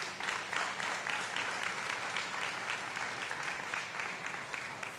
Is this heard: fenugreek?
no